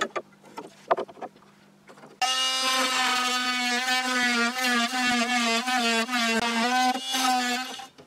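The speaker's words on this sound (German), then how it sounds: "Rausschneiden werde ich das Ganze mit dem Multischneider." An oscillating multi-tool starts abruptly after a few quiet knocks and cuts into wood with a loud, steady buzzing whine that wavers slightly in pitch as the blade bites, running close and alone.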